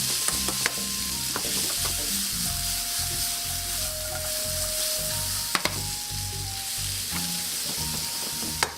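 Mushrooms sauté in a hot pan with pepper, giving a steady, close sizzle broken by occasional scrapes and stirs of a utensil against the pan. No one speaks.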